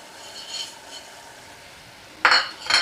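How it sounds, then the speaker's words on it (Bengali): Moong dal is added to bottle gourd in a pan and stirred, a quiet scrape early on, then two sharp clattering scrapes of a utensil against the pan near the end. "এবার মুগ ডালটাও দিয়ে দেব"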